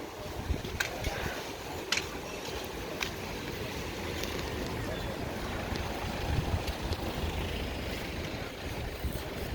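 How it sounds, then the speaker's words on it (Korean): Strong wind outdoors on Jeju Island, a constant roaring gusty rush buffeting the microphone, with faint occasional voices underneath. "바람이 세게 세네"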